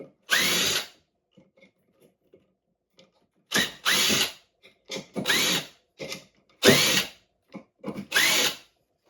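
Craftsman 20V cordless drill backing screws out, heard as six short, loud whirring bursts separated by quiet pauses, close up and alone.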